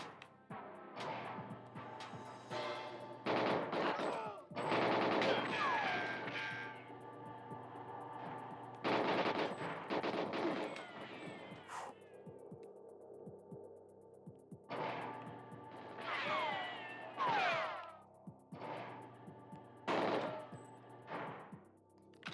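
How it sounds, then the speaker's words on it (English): Gunfire in the shooter GoldenEye 007, with repeated bursts of rapid automatic shots and single cracks over a steady low game hum, broken by short quieter stretches. "Someone's shooting at me."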